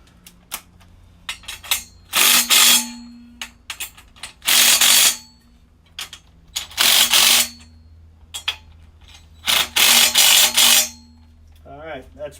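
A 17 mm wrench tightens a bolt on an engine stand, giving four or five loud, close bursts of rapid ratcheting clicks separated by short pauses over a low steady hum.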